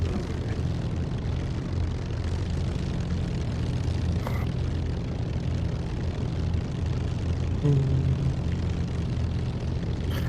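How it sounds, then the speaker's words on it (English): A steady, droning propeller aircraft engine in the DCS flight simulator game hums continuously at an even level, a low rumbling tone with no gaps and no voices. "This sounds so good, this plane."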